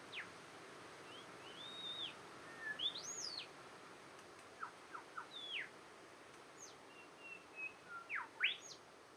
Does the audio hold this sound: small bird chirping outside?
yes